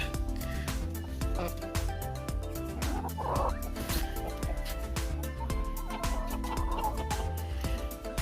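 Free-range hens and a rooster on a farm, clucking and gobbling-like calls repeating continuously at close range over a busy, noisy yard, with a faint voice briefly in the background.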